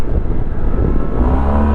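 A Yamaha TMax 560 scooter engine being revved on the throttle, giving a steady, loud, close low drone that holds through the whole moment without talk.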